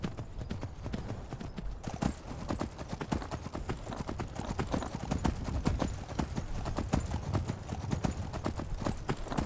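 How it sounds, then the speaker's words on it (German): Rapid rhythmic hoofbeats of a galloping horse in the video game The Elder Scrolls V: Skyrim, steady thudding clip-clop throughout at a moderate level, with occasional faint speech underneath. "Und mein Pferd kann ja hier auf Berge klettern."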